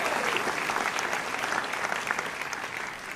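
An audience at a percussion concert gives sustained applause, a dense wash of clapping that fades slightly toward the end, with no distinct voices.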